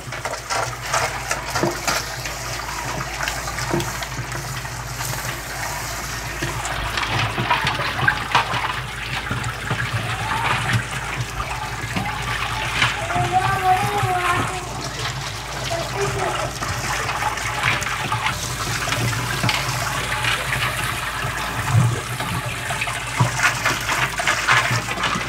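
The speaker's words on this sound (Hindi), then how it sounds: "फिर दोबारा इस तरह पानी मार के जहाँ पर भी गंदगी फंसी है," Water sprays and rushes inside a home aquarium tank to flush trapped dirt, a loud continuous gushing and sloshing that runs throughout with slight surges.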